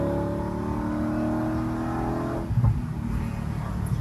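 A Ford GT40 race car on a circuit holds a steady, loud engine drone, then the pitch drops and shifts abruptly near the middle with a brief burst of throttle, alone without voices.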